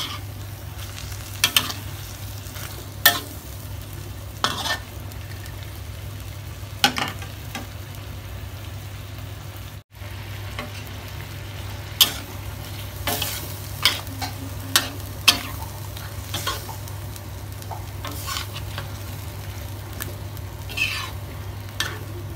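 Shrimp and squid stir-fry in a pan for a stink-bean dish with coconut milk and shrimp paste. A steady low sizzle runs under repeated sharp scrapes and clanks of a spatula, close and without talk.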